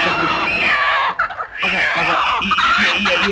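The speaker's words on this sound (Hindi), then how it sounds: "चल तेरी तो पहले ये मुर्गी तो पकड़" A chicken clucks and squawks close by in a noisy, busy scene, with agitated bird calls repeating throughout and a brief lull in the middle.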